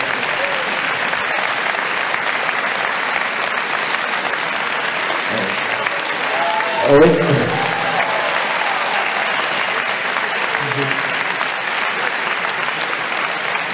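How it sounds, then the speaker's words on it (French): Audience applause at a conference round table on leaving the euro, sustained dense clapping throughout at an even level, with a brief spoken word partway through. "On peut l'applaudir bien fort."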